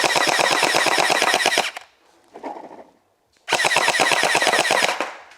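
Gelbee gel blaster toy gun firing rapid full-auto bursts at boxes: two long loud strings of fast, evenly spaced shots separated by a short pause with faint mechanical noise.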